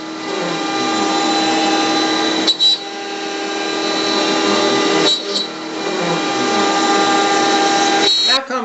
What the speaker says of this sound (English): the grooves using a 1/4 inch bit in the cherry